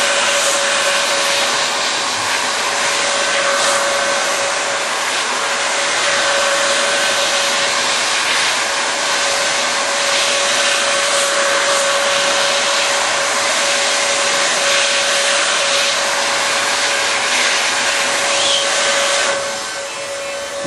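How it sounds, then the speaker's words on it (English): A heat gun blows and hisses steadily and loudly while shrinking adhesive-lined PRT tubing at its overlap, with a constant tone over the airflow noise and no speech. "just continue to apply the heat to the overlap area only, nowhere else"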